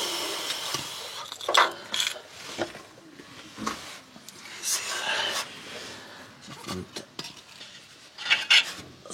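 Lambda oxygen sensor being unscrewed from a car, with scraping and rasping metal-on-metal turns and small clinks of the tool, close and quiet in short bursts, under a person talking.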